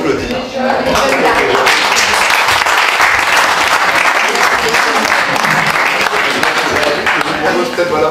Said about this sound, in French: Je crois que ça s'applaudit.